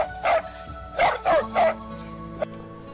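A person imitates a dog, giving four short barking "woof" sounds in quick succession, close and loud, followed by a brief yelp.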